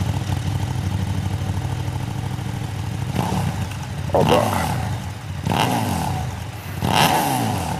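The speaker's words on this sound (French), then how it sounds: "Le son du moteur" A motorcycle engine idles with a steady rumble, then revs up in several sharp bursts, with a brief voice heard at one point.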